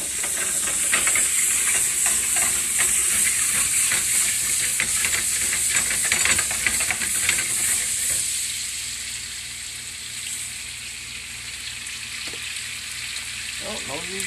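Fresh, clawless crabs sizzle and hiss loudly in butter in a frying pan, a dense steady crackle that eases a little toward the end, with occasional stirring or handling noises and no talk.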